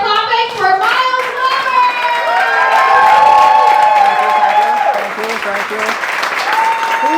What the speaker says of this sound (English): Get loud. Get proud. Clap for clapping for Myles.